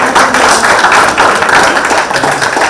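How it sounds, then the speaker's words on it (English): People attending a fire protection engineering guest lecture at a university give the host a short round of applause, a brisk, fairly loud burst of many hands clapping at once. "If you could give a brief round of applause for him."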